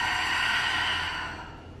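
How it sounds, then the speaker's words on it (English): A yoga class breathes out together through open mouths, a broad airy whoosh that starts strong and fades over under two seconds with no talking. "Take an inhale. Open mouth exhale."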